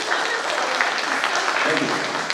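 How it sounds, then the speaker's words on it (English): Audience applause after a talk, a steady, dense round of clapping filling the room at even loudness, with no clear voices on top. "I'll give him a round of applause."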